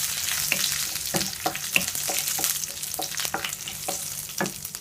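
Mustard seeds, two or three dried red chilies and curry leaves stirred in hot coconut oil for Kerala cabbage thoran, a steady close sizzle broken by regular spatula scrapes against the pan, no voices.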